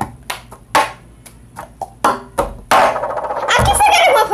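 Cup song rhythm played by hand: sharp claps and hollow knocks of a cup struck and tapped on a table in a quick, irregular pattern, followed by a louder burst of clattering and voices.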